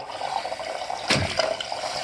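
Water runs steadily from a tap after a water pump switch replacement, a continuous hissing flow close by, with a brief splash midway, as air clears from the lines.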